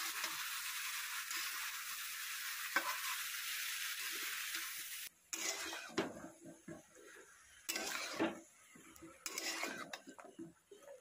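Onions and ridge gourd fry in a wok, with a steady broadband sizzle for the first five seconds, then interrupted by clattering stirring and bursts of frying through the rest.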